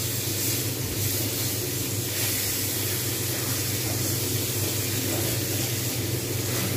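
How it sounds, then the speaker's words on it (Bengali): Marinated chicken barbecue pieces fry in oil in a pan, giving a steady, dense hiss and sizzle that runs evenly throughout, with no talk. "ভাজা ভাজা হচ্ছে।"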